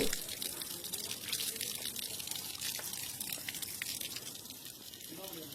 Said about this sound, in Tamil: இந்த மாதிரி பாறை இடுக்கு வழியாக தான் இந்த தண்ணி வந்து இந்த தீர்த்தத்துக்கே வருது